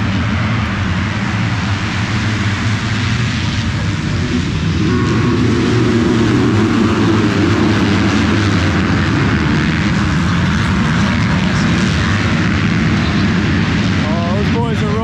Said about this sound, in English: The revs are about to go up, and the gate's about to go down.